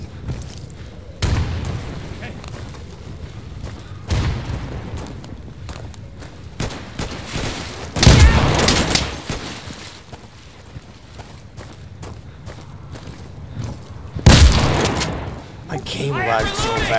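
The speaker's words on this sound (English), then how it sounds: "I'm throwing a flashbang!" A flashbang grenade goes off in the video game Insurgency, with two loud, sharp broadband blasts separated by a few seconds, plus duller booming thumps between them.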